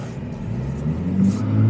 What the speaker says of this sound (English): give it some gas, because these things sound amazing either under going under an overpass, a tunnel, or in a parking garage